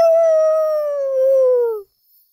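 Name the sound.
dogs whimpering and howling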